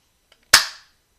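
A single sharp pop from a Nerf Ultra foam dart pistol firing close by, a quick loud crack that fades within a fraction of a second, with a faint click just before it.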